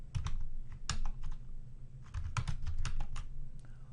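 Clicky typing on a computer keyboard while a command is entered for Cisco network equipment, irregular bursts of keystrokes close up over a low steady hum, with no talking.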